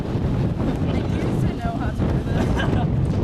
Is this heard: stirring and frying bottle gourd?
no